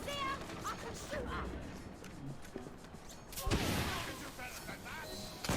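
Video game gunfire: a string of faint shots runs under a man's chatter, then a sudden louder burst of firing hits near the end.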